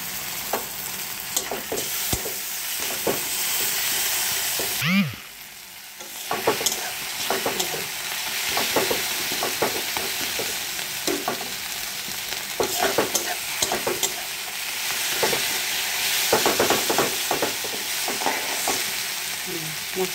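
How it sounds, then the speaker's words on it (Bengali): Spice paste fries in oil in a wok with a steady sizzle, broken by scraping stirs and clinks of a spoon against the pan, with a brief lull near the middle before the sizzling resumes. "মশলাটা ভাজা হয়েছে, তেল ছেড়ে দিছে,"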